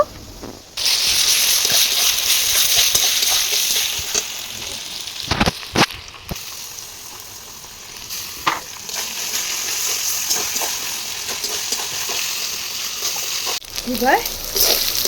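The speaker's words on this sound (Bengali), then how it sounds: "দেখো আদা রসুন পেঁয়াজ খুব সুন্দরভাবে কষানো কমপ্লিট হয়ে গেছে" Onion with ginger-garlic paste frying in a pan for chicken biryani, a loud steady sizzle with occasional scraping stirs and clatters, close up, with a voice speaking partway through.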